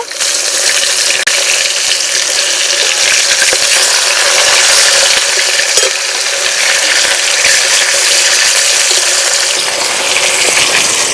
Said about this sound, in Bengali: এবার মাছ উল্টে দেব।